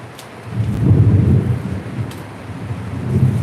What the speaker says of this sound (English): No extra charge for the thunderstorm ambiance here tonight.